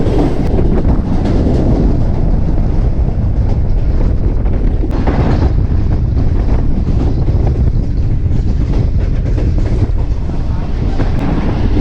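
Tezgam express train running past Lahore Cantt station, a loud continuous rumble and rattle of the carriages with heavy wind buffeting, recorded from on board, steady throughout with a few sharper clanks.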